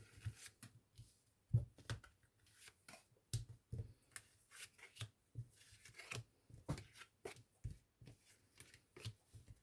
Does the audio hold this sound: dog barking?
no